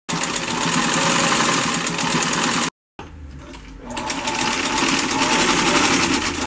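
Sewing machine stitching a tulle skirt for a dog, running in a steady, rapid whir, pausing briefly for about a quarter second before starting again and continuing close and loud.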